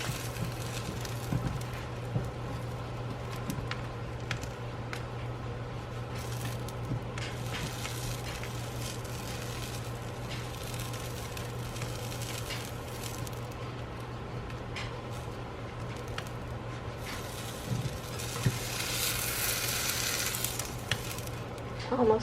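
Food toasting in a hot pan gives off a long, steady sizzle over a low hum, broken by occasional light clicks and clatter from the pan, with no speech.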